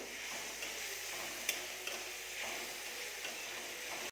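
Mushrooms frying in a pan for homemade chowmein make a steady low hiss and sizzle with a few faint ticks and one sharp clink, heard close and quiet, with no speech.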